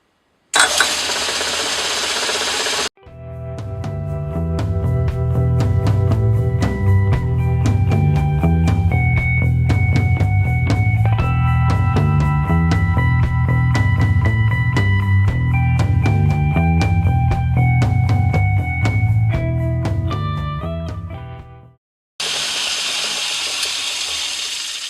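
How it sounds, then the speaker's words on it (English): A lathe turns down a piece of drill rod toward a quarter-inch diameter, giving a steady, loud mechanical drone with ringing tonal whine for about twenty seconds, framed by brief bursts of broadband noise at start and end. "I'm going to start with turning this down to a 1/4 inch diameter for a length of 492 thousandths."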